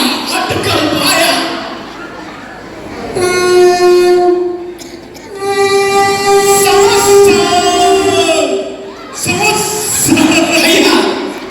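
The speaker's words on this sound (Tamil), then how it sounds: "ட்ரெயின் கிளம்பிச்சு" A train horn sounds in long sustained blasts amid station bustle, with vendors calling and crowd chatter around it.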